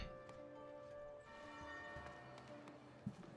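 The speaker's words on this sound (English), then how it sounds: "The bells, they got right in my ear." Church bells ring in the village-building game Foundation, sustained tonal peals layered with faint background game ambience and occasional soft knocks.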